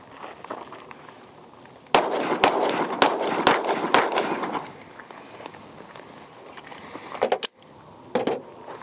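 Handgun fitted with a QVO Tactical Thumb Cliff fired on a range: a quick string of about six sharp reports, then a pause and two more isolated shots.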